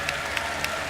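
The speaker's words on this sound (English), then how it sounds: "Can we get a round of applause for BB Team and Saika?" Dense applause from a crowd at The International Dota 2 tournament, steady and even throughout.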